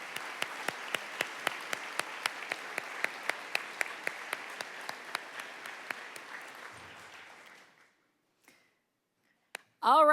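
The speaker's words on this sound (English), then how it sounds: "We would like to give you a round of applause and thank you for your service to your community." An audience claps in a round of applause for elected officials at a State of the City ceremony. The clapping is moderate, with sharp individual claps standing out, and it fades out after about seven seconds. A brief voice and a few knocks come near the end.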